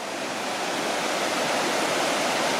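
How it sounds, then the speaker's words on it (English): A large unrunnable river rapid roaring with a dense, steady rush of whitewater, loud and close, unbroken for the whole stretch with no voices. "one of the biggest rapids on the river"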